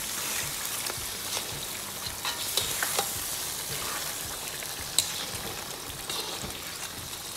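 Grilled lamb chops and their juices are folded into a karahi in a wok, giving a steady sizzle and frying hiss with scattered scraping and stirring clunks from the utensil, close and loud.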